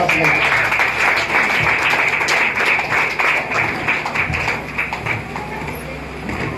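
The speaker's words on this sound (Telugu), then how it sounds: "ఒకసారి గట్టిగా చప్పట్లు కొడదాం." A church congregation applauds a keyboard player, a steady wash of many hands clapping that fills the whole stretch and stays loud and even from start to finish.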